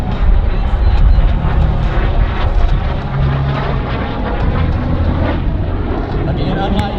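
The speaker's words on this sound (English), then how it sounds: "Watch as Greg performs a series of aileron rolls." A T-33 Shooting Star jet trainer with straight wings flies aileron rolls at an airshow, its engine a steady, loud roar for the whole stretch, with a voice talking over it.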